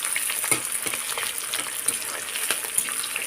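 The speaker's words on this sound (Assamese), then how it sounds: "এতিয়া ইয়াত পিঁয়াজখিনি দি ধুনীয়াকৈ পিঁয়াজখিনি ৰঙচুৱা হোৱালৈকে ভাজি থাকিম।" Chopped onions sizzle in hot oil in a pan, a continuous crackling fry with small sharp pops and occasional stirring scrapes, close and steady with no talking.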